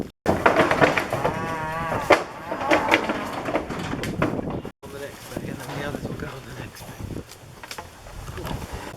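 Redpoll cattle being loaded onto a trailer, with cows and calves lowing over someone talking nearby, hooves knocking and scraping on the trailer floor, and scattered thumps throughout.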